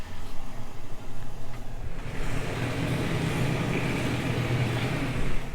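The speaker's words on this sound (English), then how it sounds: "So you can hear the water filling in there right now." Water from a pipe valve filling a tank, a steady broadband rushing that swells a couple of seconds in and then holds at a constant level, close by with no one speaking.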